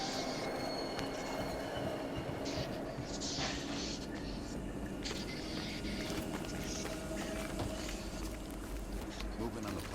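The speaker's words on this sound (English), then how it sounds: "We can use a train to slip past." A train rumbles past in Call of Duty: Black Ops, a steady loud rolling roar with faint wheel squeal running the whole way, while voices talk over it.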